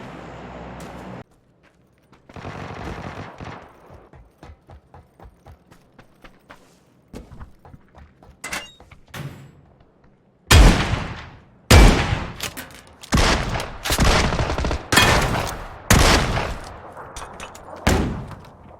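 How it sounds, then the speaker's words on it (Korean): Gunfire in PUBG: scattered clicks and mechanical handling at first, then loud, sharp bursts of shots cracking out in rapid volleys. "이쪽에서도 총소리가 났거든요"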